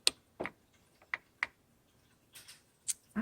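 Typing on a 1936 Royal Model O manual typewriter: a handful of sharp, separate key strikes at an uneven pace, close and crisp, with quiet gaps between them and no voices.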